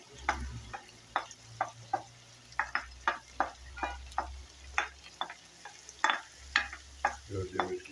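Minced meat with onion, pepper and garlic sizzles softly in a pan while a utensil scrapes and taps in a repeated irregular rhythm of clicks over the faint frying.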